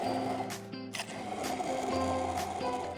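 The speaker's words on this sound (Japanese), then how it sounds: "茹でたほうれん草と炒めた玉ねぎを一緒にブレンダーでペーストにしていきます" A kitchen blender purees boiled spinach with fried onions into a paste, a steady, dense motor whir with rising and shifting pitch and a few sharp surges, loud and continuous throughout with no talking.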